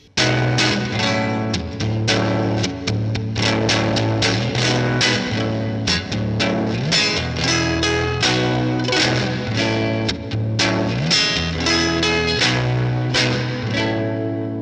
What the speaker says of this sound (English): we add a tiny bit of reverb, okay? And then that reverb is being crunched in the amp